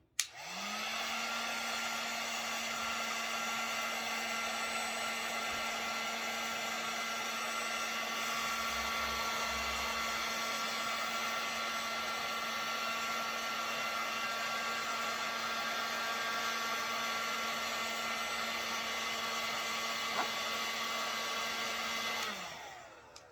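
A heat tool blows steadily on top of a marbled candle's wax, a loud constant whooshing hum that runs unbroken for over twenty seconds and cuts off at the end.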